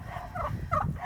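A farm turkey gobbles twice in quick bursts, fairly close, over a low rumble of wind during a winter storm.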